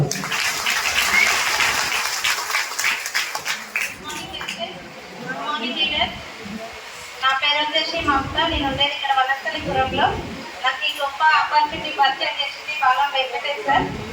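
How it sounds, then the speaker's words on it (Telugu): An audience at a seminar in Kothapet breaks into clapping, a loud patter of many hands that rises, dips briefly and then swells again, with voices talking over and around it. "గుడ్ క్లాప్స్ ఒకసారి"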